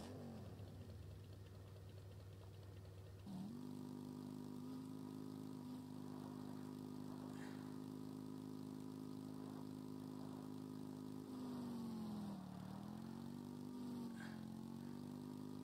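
A motorbike engine in Empyrion Galactic Survival starts up and settles into a steady, loud idle hum, dipping and rising slightly as the revs shift, with no one talking.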